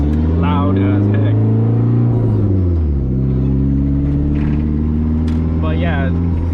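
A straight-piped 2G Eclipse GSX engine drones loud and deep with pitch sliding down and then holding steady, as a low rumbling exhaust note under someone talking.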